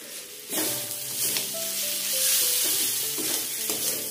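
Mutton and spice paste sizzle and crackle steadily in a hot pan for a potato mutton curry, with stirring scrapes breaking through the frying hiss.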